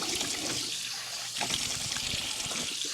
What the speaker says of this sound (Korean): 피지랑 노폐물이 전혀 남지 않도록 정말 빡빡 열심히 세수한다